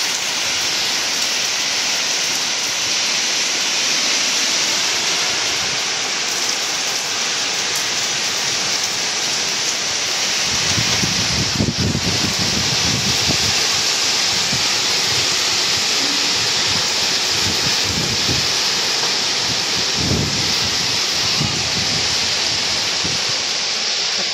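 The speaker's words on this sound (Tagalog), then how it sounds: "ang lakas nga ng hangin. Taas. Saka ng ulan." Heavy typhoon rain pours with a dense, constant roar in the Bicol Region, Philippines, and strong gusts of wind swell and buffet through it in low rushes.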